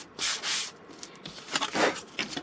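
Sandpaper scrubs along a wood edge in short back-and-forth strokes, close and distinct, with brief quiet gaps between passes.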